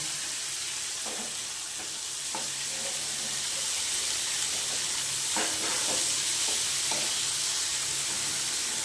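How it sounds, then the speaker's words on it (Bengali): Tomato and onion fry together in a hot pan for chicken do peyaja, giving a steady sizzle and hiss broken by scattered scraping clicks from a spoon stirring the mixture. "টমেটোটা আর পেঁয়াজটা একসঙ্গে ভাজা হবে"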